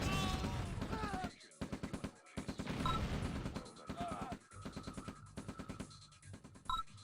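A battle in the OpenRA Red Alert strategy game fills with rapid volleys of rocket fire, crackling bursts and explosions in quick irregular clusters, broken by a brief lull before the salvos resume.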